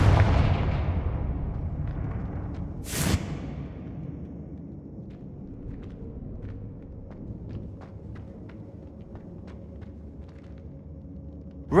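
A Confringo spell blast in the Hogwarts Legacy video game opens with a loud fiery boom that decays into a long low rumble, with a sharp whoosh flare and scattered small crackles afterward.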